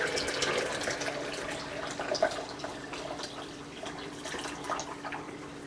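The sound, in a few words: hot water poured from kettle into pitcher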